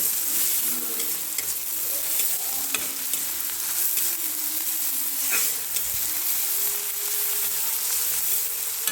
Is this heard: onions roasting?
yes